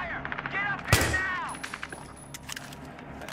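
Gunfire from the video game Battlefield 3: a single sharp, loud shot cracks out near the start, followed by scattered fainter pops under a background of battle noise and a voice talking.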